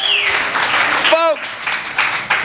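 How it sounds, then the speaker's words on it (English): A crowd in a studio audience applauds, a loud dense wash of clapping with cheering and a voice calling out over it, continuing briefly. "Clap it up louder for the warehouse."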